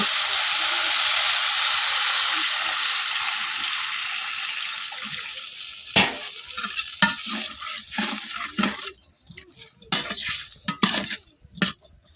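Vegetable stems sautéing in oil in a pan for a Bengali home-cooked meal, a loud continuous sizzle at first that fades, then broken by repeated scraping stirs and clatter.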